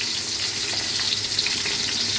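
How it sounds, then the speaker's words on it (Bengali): Chopped onion hitting hot oil in a pot for chicken biryani, giving a dense, steady hiss of frying. Close and even throughout the short stretch, with no voice. "এখানে আমি পেঁয়াজ কুচি দিয়ে দেবো"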